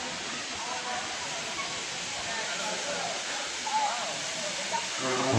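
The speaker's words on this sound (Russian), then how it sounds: "Это водопад идет." A waterfall on the road to the falls near Nazlı Bulaq in Quba, Azerbaijan, gives a steady broad rushing roar that fills the whole stretch, with no break in the wash of water.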